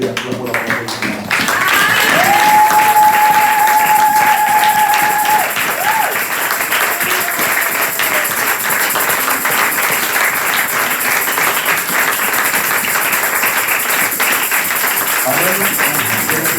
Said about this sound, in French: Levons-nous et acclamons la parole de Dieu